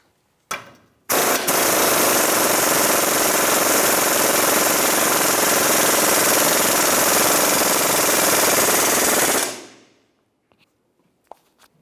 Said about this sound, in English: Now we can go ahead and use our 24mm socket. We'll go ahead and snug this up.